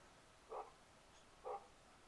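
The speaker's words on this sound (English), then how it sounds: "Hear that fucking dog barking?" Dog barking outside, two short, distant barks about a second apart, faint against quiet background noise.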